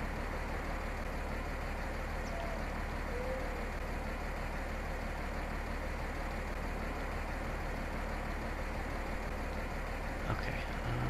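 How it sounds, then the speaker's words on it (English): A planting tractor's engine idles in the farming game Midwest Horizons while seeding wheat, a steady unbroken low rumble with no talking. "Here we got our planting tractor."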